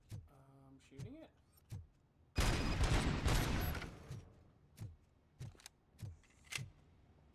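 Gunfire in the video game Avowed: a dense, loud burst of rapid shots lasting about a second and a half, set among scattered sharp clicks and short thuds, with no talk over it.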